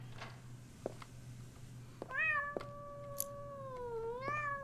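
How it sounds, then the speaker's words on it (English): A cat meows two drawn-out, wavering calls over a steady low background hum, with a few soft knocks between them and no talking. "That is actually not my cat."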